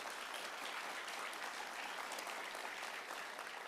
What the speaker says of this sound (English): Can we first give a round of applause to the wonderful group of team captains